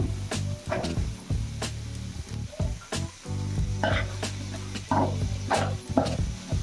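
Beans and field beans (avarekalu) with tomato fry in a pan for upma, a steady close sizzle broken by repeated scraping, clattering strokes of a spoon stirring through the mix.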